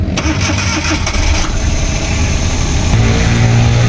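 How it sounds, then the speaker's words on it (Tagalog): A Suzuki K6A turbo engine in a DA64W van, which has a low-power fault, cranks and catches, then settles into a loud, steady running rumble close by. "Engine start."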